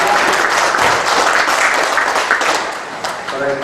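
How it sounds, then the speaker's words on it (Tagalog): Guests applaud at a wedding ceremony, a burst of clapping from a gathered crowd with voices mixed in. "palakpak naman tayo, palakpak."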